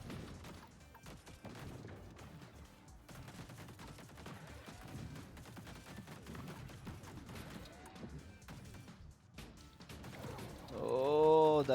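Turrets firing in the TerraTech Legion vehicle combat game, a dense, continuous patter of small rapid shots and mechanical clatter, fairly quiet throughout with a louder burst near the end.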